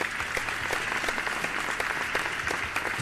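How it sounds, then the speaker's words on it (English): Students at a school math bee competition in Andhra Pradesh applaud themselves after a qualifying round, a short burst of steady, moderately distant group clapping with no talk over it. "Okay, clap for yourself,"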